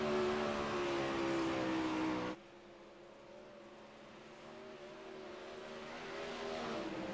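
A 360 sprint car engine roars on board during practice laps on the Port Royal dirt track, loud and steady at first, then dropping abruptly to a lower drone that slowly builds again.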